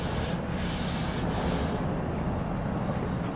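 Fine 800-grit sandpaper rubs over rosewood veneer with inlay in a steady, continuous scratchy hiss, close and unbroken for a few seconds.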